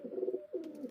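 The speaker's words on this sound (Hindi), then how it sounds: "देखो कबूतर लड़ रहे हैं" Pigeons squabbling at close range, giving low throaty coos in two short bursts with a brief gap and a faint flutter of movement, fairly quiet, no talking.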